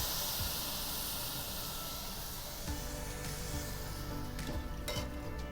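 Lemon asparagus risotto simmering in broth while being stirred, giving a steady close sizzle and hiss with faint scraping stir sounds throughout.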